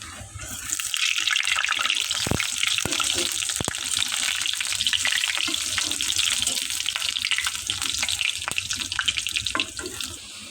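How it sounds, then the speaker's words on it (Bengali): Small round masoor dal fritters bubble in hot oil, a dense continuous frothy sizzle with scattered sharp pops and clicks, close and steady for several seconds with no speech. "মসুর ডালের বড়া ছোটো ছোটো করে গোল করে নেব, তেলের মধ্যে দিয়ে দেবো।"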